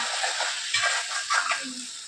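Cooked brinjal fry scraped and stirred out of a pan into another vessel, with soft scraping and light residual sizzle in short bursts, fairly close, no talking.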